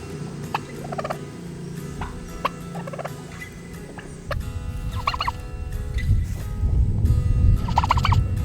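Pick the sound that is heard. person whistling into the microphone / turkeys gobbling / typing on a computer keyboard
turkeys gobbling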